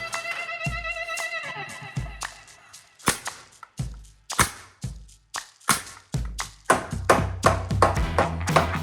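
Hammer nailing off the end of a beam being installed in a doorway, a run of sharp, close, irregular blows that grow quicker and louder toward the end, with some ringing tones early on.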